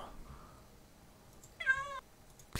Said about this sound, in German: hallo Katze, geh mal ein Stück beiseite